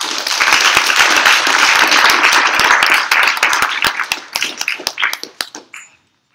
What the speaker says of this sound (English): So we give them a warm round of applause.